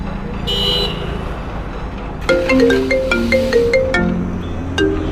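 A mobile phone ringtone chimes a repeating melodic tune after a brief buzzing tone, fairly loud and near, over steady background noise.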